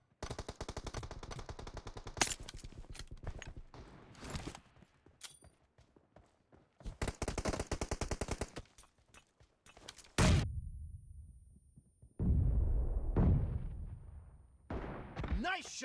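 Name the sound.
gunshots from video game, M24 and M416 rifles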